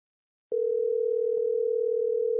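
A telephone dial tone comes on abruptly and holds as a steady, continuous pure hum while a call is being placed, with a couple of faint clicks along the way.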